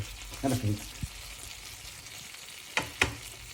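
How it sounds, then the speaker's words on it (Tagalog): Chicken inasal frying in a pan (kawali) over low heat gives a soft, steady sizzle, broken by a few brief clinks and scrapes of a utensil near the end. "So, yan ang ating chicken inasal sa kawali."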